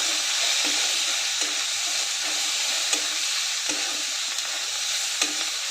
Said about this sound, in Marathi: हळद, गरम मसाला मिक्स करून परतून घेऊया.